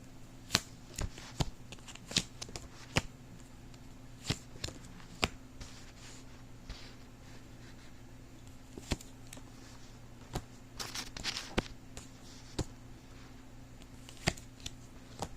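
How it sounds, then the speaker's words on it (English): Tarot cards are shuffled and dealt out in a quiet room, with crisp flicking riffles and soft slaps of cards landing close by over a low steady hum. "let's start laying out these cards"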